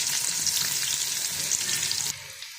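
Onions sizzle and crackle steadily in hot oil for a pulao tempering, a dense, close frying hiss that drops off abruptly near the end.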